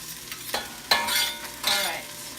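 Squeezed garlic hits a very hot pan of partially cooked onions for a rabbit dish, sizzling loudly in surging bursts as it is stirred, close up and without any voices.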